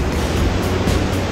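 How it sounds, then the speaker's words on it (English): A waterfall near Goat Lake in the Sawtooth Mountains makes a loud, continuous roar of rushing water, close and steady with no pauses and no voices. "I have the waterfall behind me."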